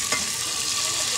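Spice masala roasting in a pan, a dense continuous sizzle throughout, close and steady, with no voices.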